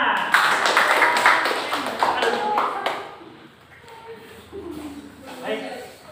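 Students clapping in a classroom during a Quran recitation lesson, a burst of fairly close, uneven hand claps that fades after a few seconds into quieter room sounds and faint voices.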